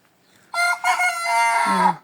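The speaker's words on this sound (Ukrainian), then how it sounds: "півничок кричить уже" A young Hisex White rooster, about two months and twenty days old, gives a single close, loud crow lasting under two seconds, high and strained with a falling tail, in a quiet farmyard.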